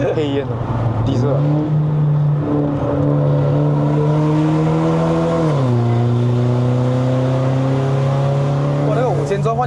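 A Mercedes-Benz W212 E250 AMG Line engine held at steady high revs around 5000 rpm on a Genting hill climb in Malaysia, a loud continuous drone that dips briefly as the pitch steps down, heard from inside the car with voices over it.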